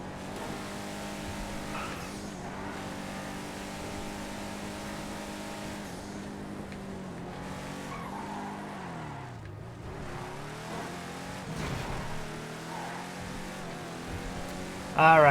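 A Gauntlet drag car in the GTA FiveM racing game drives laps around a track, its engine droning steadily with shifting pitch and occasional revs, moderately loud and continuous throughout.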